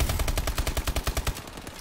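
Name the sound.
gunshots in a video game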